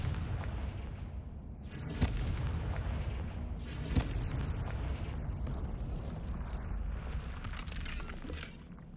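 Confringo blasting spell in Hogwarts Legacy, heard as two sharp booming bursts over a dense rumbling game soundscape, loud and close, with no talking.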